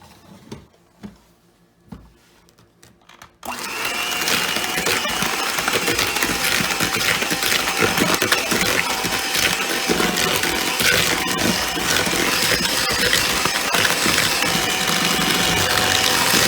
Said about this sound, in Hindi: एक हैंड मिक्सर के साथ